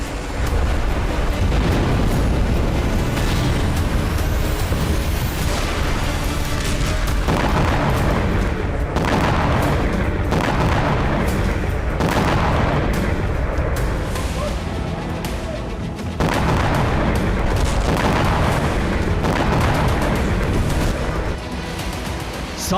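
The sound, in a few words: explosions and rocket strikes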